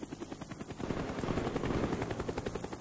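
Enemy Cobra attack helicopter in Call of Duty: Black Ops, a rapid rhythmic rotor thump growing louder and nearer over a few seconds, with no speech.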